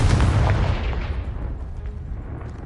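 A Confringo blast spell from a Hogwarts video game erupts against a pile of debris, a loud booming explosion at the start that rumbles and crumbles away over a couple of seconds, with no talking.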